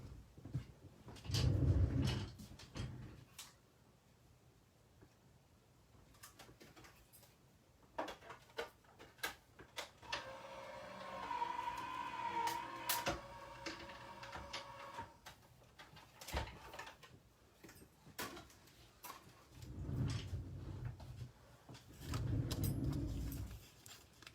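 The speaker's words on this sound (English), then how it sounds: "I'm gonna run these through my dye machine." Paper being cranked through a manual die-cutting machine for a stamped card project, a faint grinding roll with clicks and knocks, bracketed by soft handling thumps at start and end.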